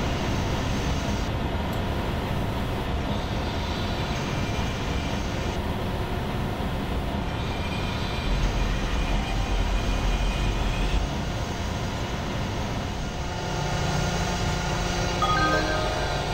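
Train rumbling at Genova Piazza Principe station platform, a steady loud rolling drone with screeching and clanks toward the end, station ambience throughout.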